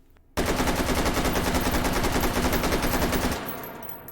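A fully automatic AK 101 fires a 30-round magazine of 5.56×45 in the VR game H3VR. The sustained burst is loud, rapid and unbroken for about three seconds, then the echo fades.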